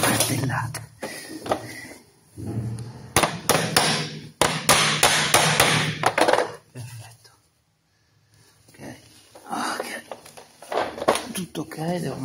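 Hammer blows strike while baseboard is fitted along uneven walls in a garage, a few sharp close knocks in short bursts between stretches of talk.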